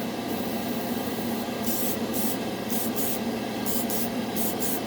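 Airbrush spraying Mission Model chrome paint gives a steady close hiss throughout, with several brief brighter bursts of spray layered on top.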